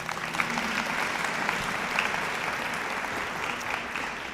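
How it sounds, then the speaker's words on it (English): Sustained applause from a large audience at a St. Mary's senior awards ceremony, a dense, even wash of clapping that holds steady throughout with no speech over it. "clap for that."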